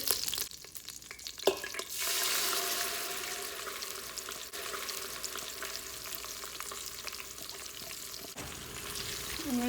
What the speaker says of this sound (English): I'm going to let that fry for a second here, and then I'm going to be adding my ground paste, the cilantro green chili paste.